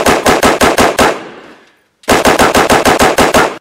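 Machine gun fire sound effect during an unboxing of a Cyberpunk 2077 Collector's Edition: loud rapid bursts of automatic gunfire, a second of fading echo, then another fast burst of evenly spaced shots, with no talking.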